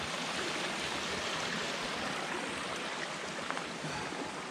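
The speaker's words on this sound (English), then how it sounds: "the water is really flowing today" A mountain stream runs strongly below the Arrow Slide trail in the Hancocks, making a steady, full rushing and churning roar that fills the scene without pause. No voices are heard.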